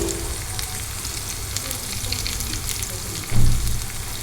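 Crushed garlic, dried red chilli pieces and curry leaves tempering in hot oil for gongura curry, a steady close sizzle and crackle with a brief louder flare near the end.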